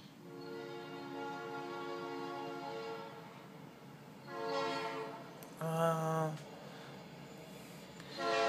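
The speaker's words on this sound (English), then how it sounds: "There goes the fucking train every time I'm trying to make a video." A train rumbles past at a distance with steady tonal droning, then a horn-like blast sounds briefly near the end.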